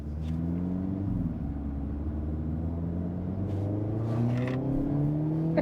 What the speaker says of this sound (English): Depending on what drive mode you're in, determines just how loud that exhaust is back behind you.